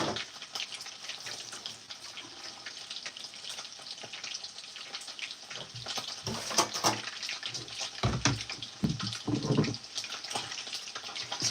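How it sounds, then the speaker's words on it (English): Running tap water pours steadily while a dish is washed at a home kitchen sink, a continuous low hiss with a few louder splashes and knocks near the end. "I'm just washing the dish, guys."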